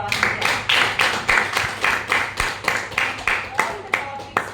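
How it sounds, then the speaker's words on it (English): Audience applause at a speakers' forum meeting, a roughly five-second run of clapping in uneven pulses from a modest crowd, moderately loud and steady. "Good round of applause for Aditya"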